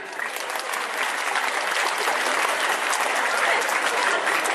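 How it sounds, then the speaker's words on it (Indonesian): Dense audience applause at a gathering about the Pondok Pesantren Rasyidiyah Khalidiyah Amuntai Islamic boarding school, a steady wash of many hands clapping that stays loud and even throughout. "Tepuk tangan."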